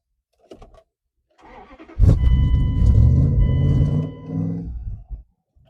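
A 10-year-idle Dodge Durango cranks in short bursts, then catches and fires into a loud, rough idle that settles and fades after a few seconds. No voices are heard.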